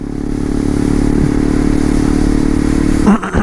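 A Honda CRF converted into a supermoto, its engine around 450 cc, holds a loud, steady idle with a constant low rumble and faint clatter, then blips sharply near the end with a short rev and drop.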